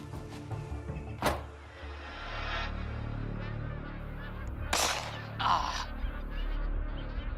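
Magpie geese honking in Kakadu wetlands, several overlapping calls with a few louder bursts over a steady low background rumble.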